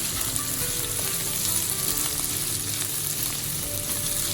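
Onion goes into a hot pan for yakisoba, producing a loud, dense, continuous sizzle with light stirring scrapes, close and unbroken throughout, with no voices.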